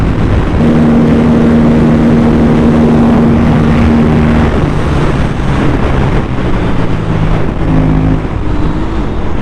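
A modified Aprilia RS457 motorcycle rides hard and brakes sharply, captured as loud, continuous engine and wind roar with a shifting engine tone, close and dominant, with no talk.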